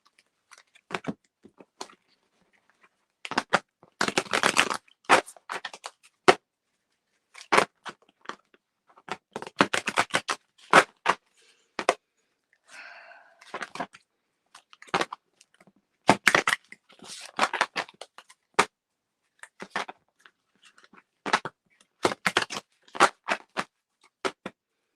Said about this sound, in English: I'm going to shuffle the cards real quick.